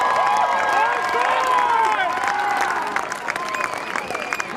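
Large crowd applauding and cheering for the 2017 Oxford University Boat Race winners, a dense steady wash of clapping with whoops and shouts that eases slightly toward the end.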